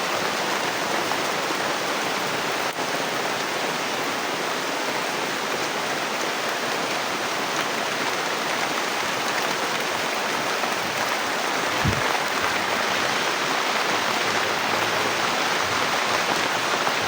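Heavy rain pouring down steadily, a dense, loud, unbroken hiss throughout with a brief low thump partway through.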